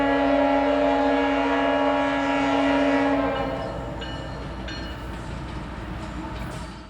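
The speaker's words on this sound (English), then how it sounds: "Q441-06 was led by one of CSX's three specially painted Pride in Service locomotives on April 6, 2021." CSX freight train Q441-06, led by locomotive 911, sounds a loud sustained horn blast near a County Road 121 crossing in Florida, then the horn cuts off and rumbling wheels roll steadily past at close range.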